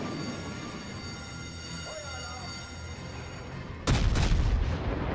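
Naval guns boom in the World of Warships sea battle, a sudden loud burst of fire after a stretch of low engine-like droning, followed by a second rumbling shot.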